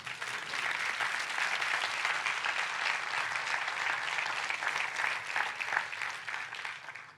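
A crowd claps steadily for several seconds, a dense, even patter of applause that fades out at the end.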